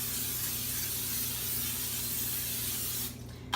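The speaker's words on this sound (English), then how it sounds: "And I'm going to spray it with some nonstick cooking spray" Nonstick cooking spray hisses from an aerosol can into a 9 by 11 inch baking pan for lasagna, one continuous close spray lasting about three seconds before cutting off.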